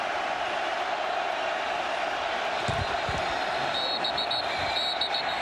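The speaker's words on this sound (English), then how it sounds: "Crowd gets loud." A football stadium crowd swells into a loud, continuous roar ahead of a third-down snap at a Tampa Bay Vipers versus Seattle Dragons game, a dense steady wash of noise with a few thumps and faint whistle-like tones late.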